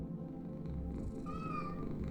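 A cat in the video game Lone Survivor gives a single short, faint meow over a low background hum.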